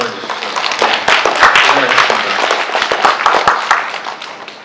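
Seminar audience applauding two speakers at a Korean poetry translation event, a dense crackle of clapping hands rising and fading over a few seconds, with a brief spoken word over it.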